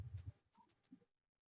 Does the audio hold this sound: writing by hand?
yes